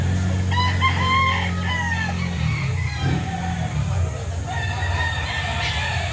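Boston Sweater gamefowl rooster at a chicken market, several close crows and clucks over a steady low background hum, with faint voices nearby.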